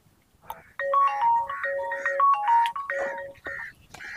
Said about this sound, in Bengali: এই সময় কে ফোন করলো?